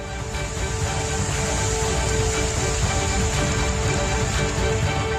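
Heavy torrential rain pours down during severe monsoon flooding in Uttarakhand, near an overflowing drain, as a dense, steady roar of water that holds loud and unbroken throughout, with no voices.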